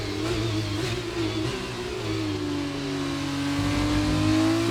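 An F2 car in F1 2019 on the Baku street circuit, its engine revving up and dropping in pitch as it downshifts into a turn, loud and close, with no voices.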